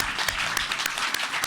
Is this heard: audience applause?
yes